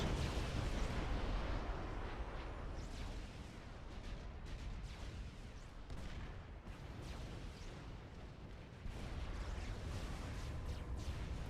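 Missile launchers firing and explosions in the strategy game FAF, a dense continuous rumble of distant blasts and bursts rolling on throughout, steady and moderately loud.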